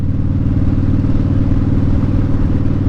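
A Suzuki Cafe Racer motorcycle engine runs close by with a loud, steady low-pitched rumble and throb, holding even without pause from start to finish.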